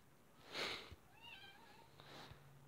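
A pet cat gives a few soft, rising meows close by, with a breathy rustle just before them and another faint meow near the end, over a quiet room.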